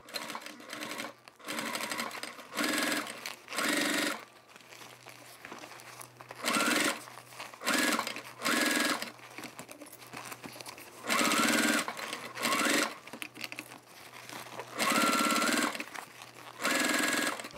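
A sewing machine stitches fabric for a toiletry bag's top side panel in repeated bursts, each run of rapid mechanical clatter stopping and starting with short pauses between, close by.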